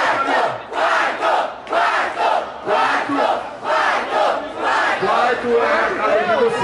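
A packed crowd at a rap battle chants and roars in steady rhythmic waves, loud and close, voices merging into a continuous cheering mass with regular pulses about once a second.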